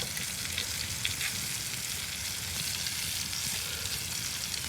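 Steady, close sizzling of steak basted with butter in a hot pan at a campout, crackling continuously with no voices.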